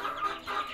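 An Ayam Cemani chicken, a young all-black bird about six months old, gives a brief, soft clucking call or two, faint and close.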